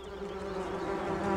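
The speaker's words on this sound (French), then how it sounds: "Il entendit comme un bourdonnement de la terre." Bees buzz near rocks in a jungle setting, a steady droning hum that holds evenly throughout, fairly faint and unaccompanied by speech.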